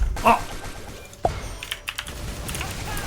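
Keystrokes on a computer keyboard during a MapleStory boss fight give a few sparse, soft clicks and taps amid faint game sounds, with no talking.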